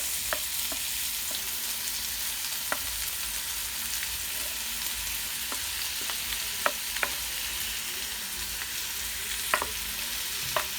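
Diced onions frying in olive oil give a steady, dense sizzle throughout, broken by scattered sharp crackles and pops near and at moderate loudness, with no voices.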